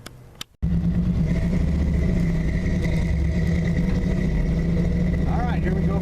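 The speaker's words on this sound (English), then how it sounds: "There's aftermarket exhaust and mufflers, but the engine sounds really strong." A 1976 Chevrolet K10 pickup with aftermarket exhaust and mufflers runs steadily and loud throughout after a brief quiet start, a deep continuous engine drone with a faint whine in the background.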